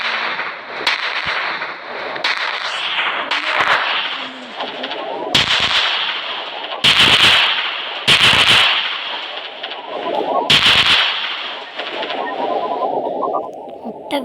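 Video game gunfire in a dinosaur park game rings out in several loud, sharp bursts over a steady background of game sound and some voice.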